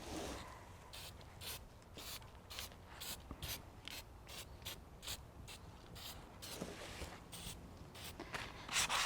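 Paint is rubbed into a flower pot to make it look old, producing repeated scratchy rubbing strokes in an uneven rhythm, close and fairly quiet.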